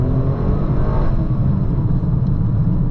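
A 2024 Toyota GR Corolla in sport mode accelerates hard, its engine a loud, continuous close-up rumble with a steady droning tone and no talking.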